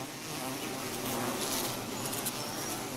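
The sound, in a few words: bees buzzing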